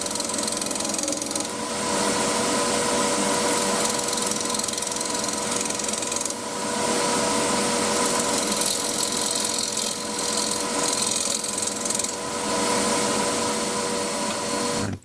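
A 3/8 Crown bowl gouge with a fingernail grind cuts a spinning wood blank on a lathe, making a loud, continuous scraping roar over the motor hum with two brief dips.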